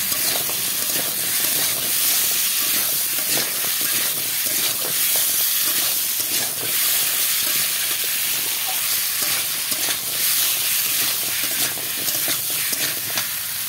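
Cut potatoes and jackfruit seeds stir-fried in an oily spice paste in a pan: a loud, steady close sizzle and hiss with scraping stirring strokes throughout, no talking.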